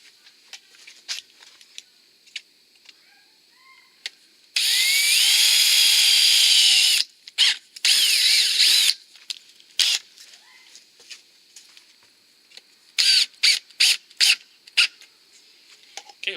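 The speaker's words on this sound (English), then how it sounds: "We're going to drill the other hole out" A power drill bores a hole for a storm door striker on a Larson Savannah storm door. It runs in a loud, steady whine for about two seconds, then in short bursts, with clicks and handling noises between.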